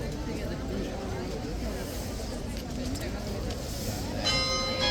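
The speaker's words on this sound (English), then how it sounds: "There's the bell." Church bell ringing at a crowded outdoor spot where a guard is moving tourists along, the tolling emerging near the end over a steady babble of crowd chatter.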